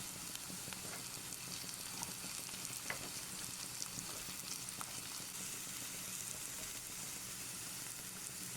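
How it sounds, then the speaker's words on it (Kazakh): Eggplant pieces fry in a pan with carrots and onions for a vegetable sauce, a continuous close sizzle with occasional small crackles and pops, no one talking. "Енді баклажанымызды кішкене қуырылып, жұмсарып, түрі өзгергенше қуырамыз."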